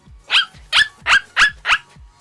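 A human voice imitates a dog barking, giving five loud, evenly spaced barks up close, each a short sharp burst with a brief pause between.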